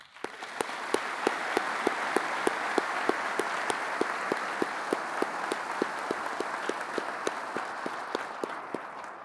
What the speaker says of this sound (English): Please join me in a round of applause for all involved